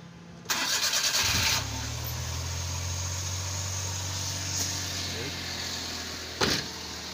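A Suzuki multicab with a hard-starting engine and recurring spark plug trouble cranks briefly with a loud whirring starter, catches, and settles into a quiet, steady low idle. A short clunk comes near the end, with someone talking.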